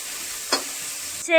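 Eggplant frying in a pan gives a steady sizzle, with a brief stir or scrape midway and a clatter near the end.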